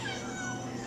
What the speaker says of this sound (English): A cat is rubbing on my leg.